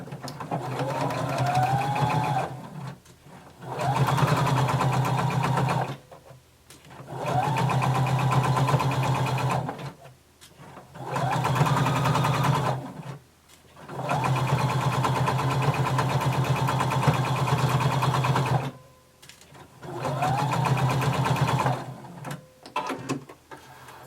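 A sewing machine runs in long stitching passes along a garment seam, its motor whirring up and down in five or six sustained bursts separated by short pauses, close and clear.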